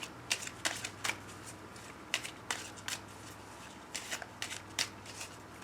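Oracle cards shuffled for a love reading: a string of crisp, papery riffling bursts in an irregular rhythm, close and fairly soft, over a faint low hum with no talking.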